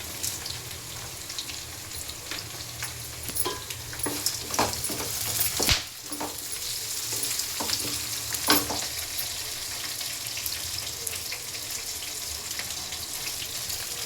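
Pepper frying in a pot for village-style chicken sambar, a steady close sizzle punctuated by scattered sharp stirring clicks and scrapes, with a sudden knock partway through.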